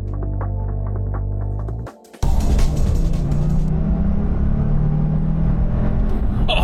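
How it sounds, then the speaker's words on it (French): A Porsche 911 Targa 4S is driven. A low throbbing idle cuts to a brief silence, then a louder rushing engine drone with road and wind noise carries on steadily. "Et me voilà en train de conduire une Porsche 911 Targa 4S."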